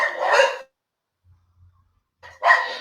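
Dogs bark loudly during a live broadcast: two sharp bursts at the start and end, close to the microphone, with near silence between them.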